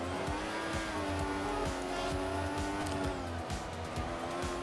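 F1 2014 race car in a video game sliding after its rear wheel clips a large curb on the Korea circuit, with a steady engine drone and repeated tire squeal and skid running throughout, loud and continuous with no talk.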